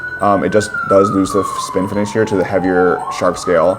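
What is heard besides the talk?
sirens in the background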